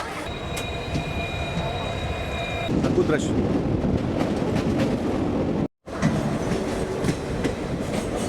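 The Vadodara–Kota parcel passenger train rumbles at a station on the Gujarat–Rajasthan border with a loud steady rolling roar and wheel clatter. Someone speaks briefly over it, and it cuts out for a moment before resuming.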